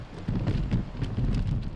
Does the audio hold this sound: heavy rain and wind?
yes